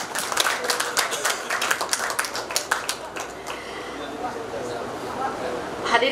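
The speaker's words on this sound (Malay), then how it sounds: "Bagi satu tepukan kepada Datuk." An audience claps at a university groundbreaking ceremony for an alumni house, the scattered claps loud and dense at first, then thinning into a softer, fading patter.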